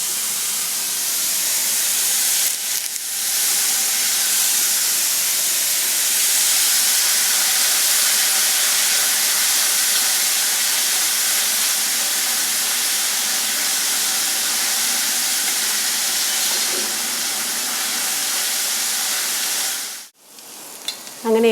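Onions and curry leaves sizzle steadily in a hot pan while being sautéed for garlic chicken, a loud continuous frying hiss with a brief stir-like interruption near the end.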